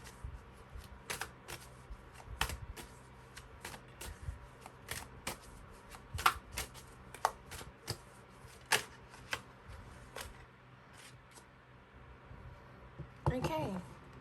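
Tarot cards are riffled and shuffled in irregular bursts of soft flapping and snapping, fairly quiet and close, ending with a quick cascading riffle.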